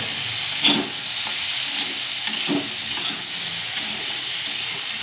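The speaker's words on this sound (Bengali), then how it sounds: "এবারে দিয়ে দেবো কুঁচো করে রেখেছি আলু আর পেঁয়াজগুলি এটাকে দিয়ে দেবো তেলের সঙ্গে ভালো করে ভেজে নেব" Chopped potatoes and onions frying in oil in a wok make a constant loud close sizzle, with a few spatula scrapes and knocks scattered through, no talking.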